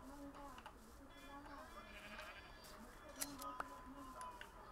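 A sheep bleats in the video game Minecraft Bedrock Edition, giving a few soft wavering calls over a quiet background.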